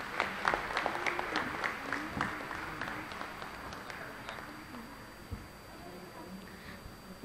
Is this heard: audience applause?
yes